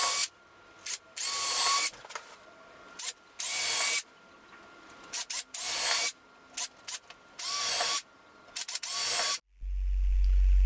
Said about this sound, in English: I'm just moving the drill over to a 45 degree angle so that I'm not going to split the wood and the screws are going to hold nicely.